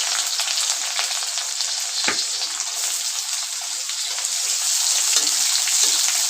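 Garlic, green chillies and onion sizzle in hot oil in a pan, giving a loud, even crackling hiss throughout with one brief thump as something is stirred or dropped in.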